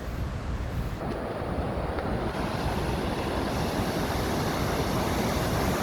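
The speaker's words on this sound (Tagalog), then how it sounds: "Ang malakas na falls eh." Loud waterfall at a camping site in Norway, a dense, steady rushing roar of falling water filling the scene with some wind buffeting, no talk.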